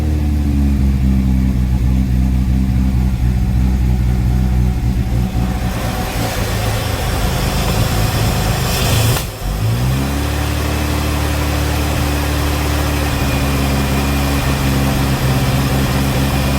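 A 1976 Jaguar XJ6 Series 2 engine with a carburettor, running close and loud with steady idle and revs, a brief dip and stumble partway before settling back into a strong even run.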